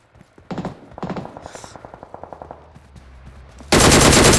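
Rapid bursts of gunfire aimed at a vehicle in the battle royale game PUBG, short rattling volleys and a run of evenly spaced shots, then a loud sustained roar of noise at the end.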